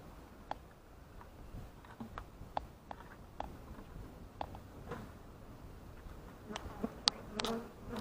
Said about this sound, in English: That is a huge clump of bees.